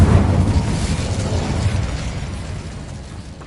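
An Incendio fire spell in the Hogwarts Legacy video game erupts as a loud, close fiery burst, then rolls into a roaring rumble that slowly fades over a few seconds.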